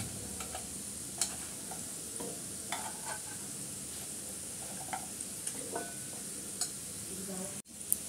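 Pitha flour snacks sizzle and crackle in hot oil, with scattered pops and ticks over a steady frying hiss, and a brief clatter near the end as pieces are lifted out.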